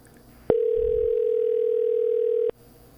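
A telephone call tone before voicemail sounds as a single steady electronic beep lasting about two seconds, loud and clean against a quiet line.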